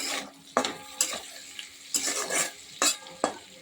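Bitter gourd frying in oil in a pan sizzles steadily while a utensil stirs and scrapes it, with five or six sharp stirring strokes at an uneven pace, close and fairly loud.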